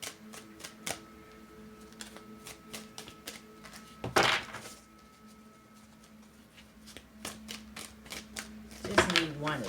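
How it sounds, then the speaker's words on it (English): Tarot cards shuffled and drawn by hand at close range: soft taps and clicks, two brief riffling bursts, with quiet talk in the background. "I'm gonna pull another"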